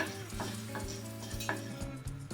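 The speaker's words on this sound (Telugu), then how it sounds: "లో ఫ్లేమ్లో ధనియాలని ముందుగా ఫ్రై చేసుకోవాలి" Coriander seeds dry-frying in a pan over a low gas flame, stirred with a few soft scraping strokes over a steady low hum, close and fairly quiet, with no talking.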